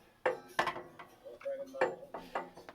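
Metallic clinks and light knocks ring out close by as the rear brake caliper of a Yamaha Road Star Silverado motorcycle is lifted off its bracket, a handful of separate taps and rattles with brief pauses between them.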